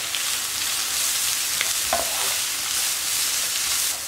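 Two medium carrots, grated and added to a hot pan, fry with a steady hiss and sizzle while being stirred, continuous and close with no talk.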